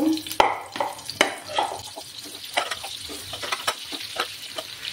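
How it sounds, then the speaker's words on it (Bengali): Pieces of young jackfruit fry in hot oil in a pan. The sizzle is soft and continuous, with a few sharp clatters and stirring knocks scattered through it. "প্যানে আর একটু তেল দেব, দিয়ে আমি এঁচড়টাকে ফ্রাই করব"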